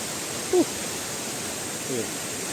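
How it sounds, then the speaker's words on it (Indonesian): Steady, even rush of water from Curug Semantung waterfall in Bengkoang, Pagar Dewa, flowing at low volume in the dry season, a constant broadband roar throughout with a couple of brief faint voices over it. "jangan lupa main ke Curug Semantung atau air terjun Semantung Bengkoang"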